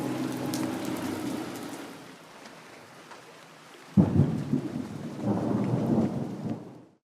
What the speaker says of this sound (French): Le Guatemala nous accueille avec un temps pas très amical. Légère pluie